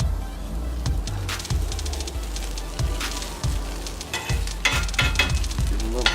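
Restaurant-style hash browns fry in bacon fat in a pan, a constant crackling sizzle broken by repeated scraping and the thumps of a spatula loosening and flipping them.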